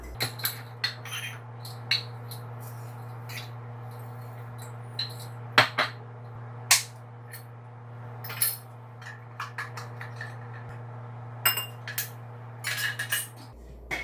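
Oats, a pulsed cashew and walnut mixture and cinnamon being stirred together in a bowl: scattered clinks and scrapes of a utensil against the dish over a low steady hum, irregular and close.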